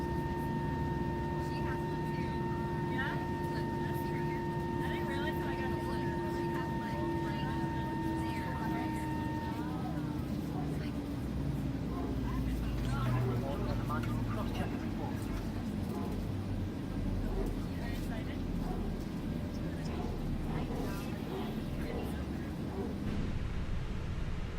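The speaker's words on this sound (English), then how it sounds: "engine master 1 off" The engine of a Jet2 A321 in a flight simulator spools down after shutdown at Palma, its whine steadily falling in pitch under a constant background hum, with talk heard over it.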